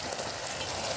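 Garlic sizzles in hot oil with onion and capsicum, a dense, steady crackle heard close up and alone.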